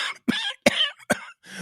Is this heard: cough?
yes